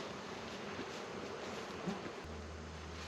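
A steady, dense buzz of many honeybees around a hive fills the air close by, with a low mechanical drone joining near the end.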